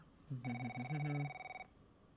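A phone rings in F1 23's Braking Point story mode, with a short warbling electronic ringtone followed by a steady tonal ring that stops after about a second, heard alone and close.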